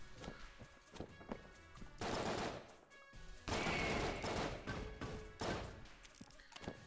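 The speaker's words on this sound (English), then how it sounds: "the bloody 9mm shots are nice, too" Rapid 9mm gunshots from the video game Enter the Gungeon, fired in quick bursts of sharp cracks with short pauses between them, loud and close, and no voice over them.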